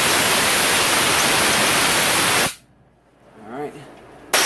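A loud hiss of compressed air blasts into the throttle body of a Yamaha YZ250F/YZ450F dirt bike for about two and a half seconds, then cuts off abruptly, followed by a brief quiet stretch and a short burst at the end.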